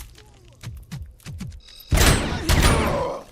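Video game gunfire from an ice gun: a few sharp thumps, then two loud, dense blasts of icy crackle close up.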